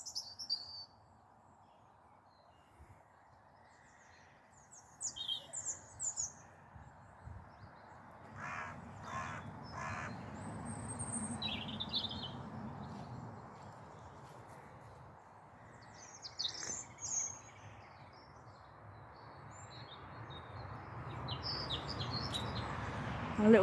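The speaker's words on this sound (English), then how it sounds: "There's a little robin singing his heart out" Small songbird, a robin, singing from a big tree outdoors, its high phrases coming and going over a steady wash of ambient noise, with harsher crow-like calls also mixed in among other birds.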